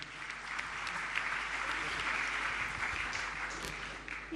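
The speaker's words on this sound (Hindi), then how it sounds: "एक बार जोरदार तालियां।" Audience clapping at a Jain religious gathering in India, a dense steady wash of many hands applauding together for several seconds, moderately distant and even, fading slightly at the end.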